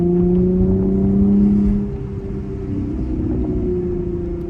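A Chevrolet Camaro engine drops a gear while driving: a loud, deep steady drone that shifts pitch and eases off partway through, then settles into a lower rumble, heard from inside the car.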